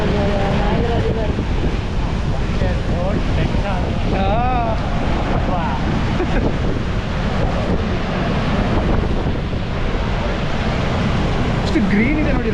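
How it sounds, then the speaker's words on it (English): Wind buffets the microphone over the rushing water of Niagara Falls and the Niagara River, a loud, constant roar heard from a tour boat, with people talking over it. "ಪ್ರಪಂಚದ ಅದ್ಭುತ Niagara Falls ನೋಡ್ತಾ ಇದೀವಿ."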